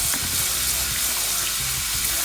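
Grated potatoes being rinsed under a running kitchen tap, a steady close rush of water splashing into a sink without a break.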